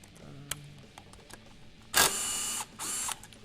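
An impact wrench undoes a 17mm flywheel bolt on a Honda XR650R motorcycle in two loud, buzzing rattling bursts after a few quiet clicks, with no speech.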